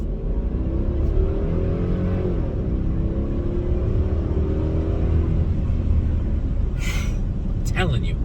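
A car engine pulls hard at full throttle, a loud, sustained rumbling drone with rising harmonics heard from inside the car, followed by a few brief high squeaks near the end.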